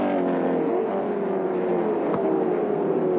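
A 5.7-litre Ford Falcon touring car at Sandown in 1981 roars along the back straight, its engine a steady, loud, sustained drone with a rising pitch, close by and unbroken, with no talk.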